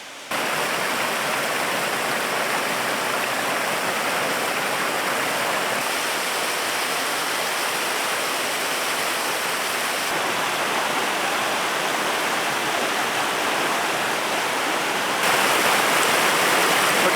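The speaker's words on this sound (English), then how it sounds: "our flow is really big right now. It's rare to see the creek this high, or the falls." A waterfall and creek in rare high flow after a storm make a loud, steady, broadband roar of rushing water, close and unbroken throughout, with no voices.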